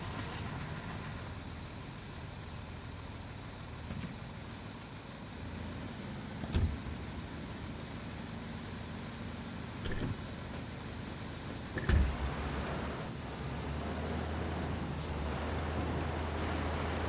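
Car engine idling and rumbling steadily in Ghost Recon Wildlands, a low constant drone with a few brief thumps, no talking.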